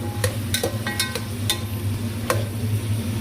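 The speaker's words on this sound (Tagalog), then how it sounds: "Yung carrot sa ating caldereta. Kasi medyo matigas yan. Kailangan natin siya maprito." Carrots for caldereta fry in a pan with a steady sizzle, broken by several sharp clinks and scrapes of a utensil stirring against the pan.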